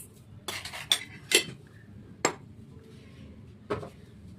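A metal spoon clinks sharply against a cooking pot a few times at irregular intervals as sugar is added, close and moderately loud in a quiet kitchen.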